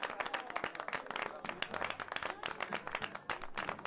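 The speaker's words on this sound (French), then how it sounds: "On applaudit la demoiselle!" Lively clapping from a small group cheering a young woman, sharp irregular claps mixed with voices talking and calling out over them.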